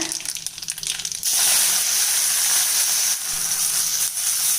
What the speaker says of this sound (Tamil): இப்போ இது கொஞ்சம் நல்லா வதங்கட்டுங்க